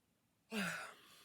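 One soft, drawn-out yawn close to the microphone, rising suddenly out of quiet and sliding downward in pitch as it fades into a breathy tail.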